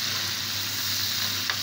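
Fava beans going into a hot pan for a home breakfast, giving a loud, steady sizzle of frying throughout, close up and uninterrupted by talk.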